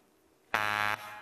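A quiz show contestant's buzzer on a televised university quiz gives one loud, steady harmonic electronic buzz lasting about half a second, rising sharply out of quiet room tone.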